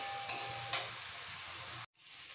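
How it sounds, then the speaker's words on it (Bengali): Boiled potatoes sizzle with spices in a hot pan as they are stirred for white potato curry. A steady frying hiss is broken by two sharp stirring scrapes, then a brief cut near the end. "এবার দিয়ে দিচ্ছি এর মধ্যে সেদ্ধ আলুগুলো। এবার আরও ভালো করে কষাবো।"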